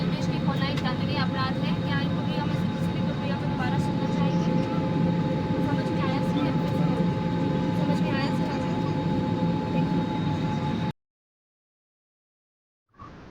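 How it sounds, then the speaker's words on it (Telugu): Passenger airplane taking off, a loud steady engine roar with a constant drone that fills most of the stretch before cutting off abruptly. "ఫ్లైట్ అయితే టేకప్ అయితే అవుతున్నది."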